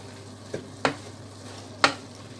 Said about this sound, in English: And then I'm just going to stir it again.